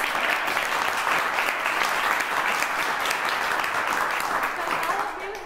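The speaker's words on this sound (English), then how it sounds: "I have to give a big round of applause." Sustained audience applause at a voice student recital, dense steady clapping from many hands filling the room, loud and continuous with a faint voice beneath.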